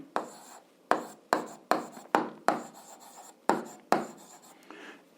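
Pen writing an algebra solution on paper, heard up close as a series of short scratchy strokes that each start sharply and fade, about eight in a row with brief gaps between.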